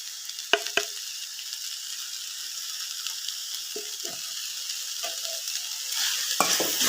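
Turmeric powder being stirred into a mixture frying in a pan: a soft, steady sizzle broken by a few sharp spoon scrapes and knocks against the pan, growing a little louder toward the end.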